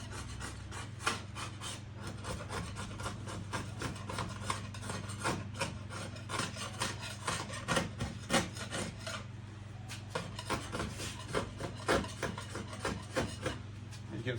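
Steady hand scraping of flaking paint from the fiberglass body of a VW Manx dune buggy, a continuous rasping texture broken by sharp, uneven strokes, close and fairly loud with no talking.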